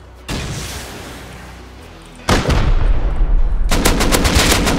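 Rapid automatic turret gunfire in the survival video game Rust: a sustained burst, a brief lull, then heavier, louder bursts of closely spaced shots ending in fast repeated firing.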